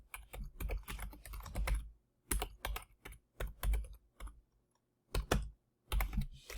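Rapid bursts of keystrokes on an ergonomic computer keyboard, clicking in quick clustered runs separated by short pauses, close and fairly loud, with no talking.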